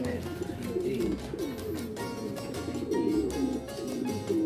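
Racing pigeons just home from a race release at Allen, Samar coo and flutter in a loft, a close, continuous cooing chorus with soft rustling, and someone talks faintly in the background.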